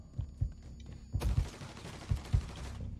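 Gunfire in the video game Mafia III comes as sharp, punchy shots at irregular intervals. A louder, wider burst in the middle is followed by a few more reports over a quiet room-like background.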